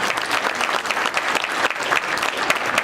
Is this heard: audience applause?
yes